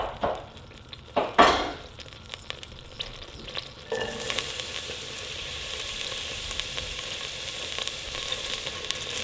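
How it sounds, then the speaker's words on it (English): Finely chopped onion dropped into hot coconut oil in a pan: a couple of clattering knocks, then a sudden, steady bright sizzle that keeps going, fairly close, with no talk. "chop it very fine and stick it in coconut oil in my pan"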